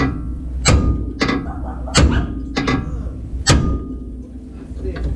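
A hammer strikes a pickle fork to release a ball joint on a Ford F150, with five sharp metallic blows at uneven intervals, loud and close, over low shop noise.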